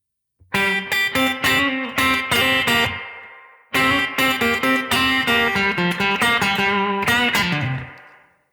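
Electric guitar plays two slow blues lick phrases, with bright distorted sustained notes and bends separated by a short pause, no talking.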